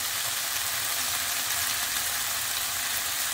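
Meat frying in the fat it has rendered out for a hünkar beğendi, a steady dense crackling sizzle close up, continuous and even with no talk.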